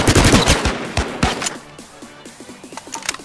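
Rapid bursts of automatic gunfire in a battle royale shooter (H1Z1/PUBG), loud close shots in quick succession that thin out into sparser, softer reports with faint tonal game sounds underneath.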